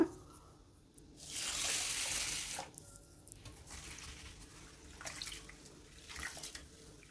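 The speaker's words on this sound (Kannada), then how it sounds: "ಇದನ್ನು ಈಗ 1-2 ಸಲ ಚೆನ್ನಾಗಿ ತೊಳೆದು ಬಿಡೋಣ" Rice with lentils and fenugreek being washed by hand in a vessel, soft sloshing bursts of water and swishing with pauses between, fairly quiet and wordless.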